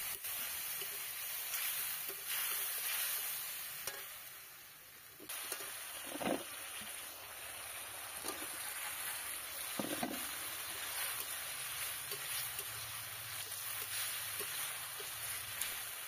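Spice paste with turmeric, salt and water frying in a pan, a soft continuous sizzle with occasional scraping stirs and light clinks, fairly quiet and close, no talking.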